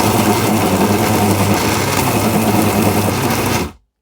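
A Tefal mixer grinder runs at speed one while mincing meat, giving a loud, steady, close motor whir that holds an even pitch and then cuts off abruptly.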